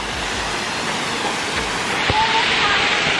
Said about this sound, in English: That is the mini waterfall.